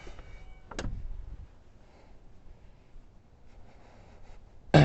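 A Ford Escape car door shuts with a single solid thump near the start, in a quiet garage setting; a second sharp knock lands right at the end.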